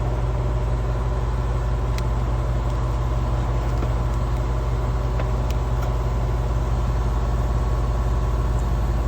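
An HVAC compressor runs with a constant low hum and a steady mechanical drone, close and unchanging throughout, with a few faint clicks on top.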